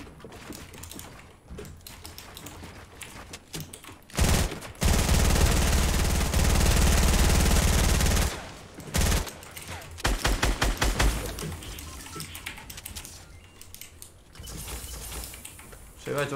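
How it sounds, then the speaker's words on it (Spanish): Bursts of gunfire from another player in Fortnite Battle Royale, one long loud stretch in the middle followed by shorter rapid clattering bursts, with a voice talking quietly between shots. "Hay otro disparando, ¿eh?"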